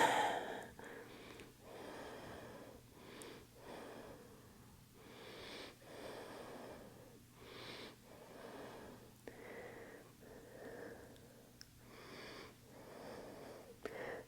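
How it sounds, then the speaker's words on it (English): Slow, deep breaths during a power yoga workout, a steady rhythm of inhales and exhales roughly every second or two, close and soft over a faint low hum. "Deep breaths."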